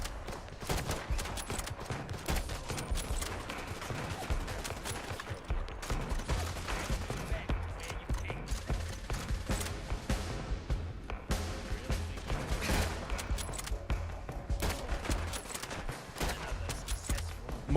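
Gunfire in Fallout London crackles in rapid, dense bursts of shots and impacts, sustained throughout at a fairly quiet level, with a voice talking occasionally over it.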